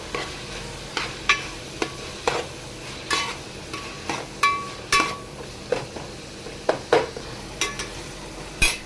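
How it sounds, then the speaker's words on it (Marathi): Garlic, onion and tomato fry in a pan for a village-style Agri Koli country chicken dish. A soft sizzle runs underneath while regular, crisp scrapes and taps of the stirring spoon repeat about once a second, with no voices. "लसूण पण टाकाय आता तो पण पूर्णपणे शिजवून घेऊ आपण"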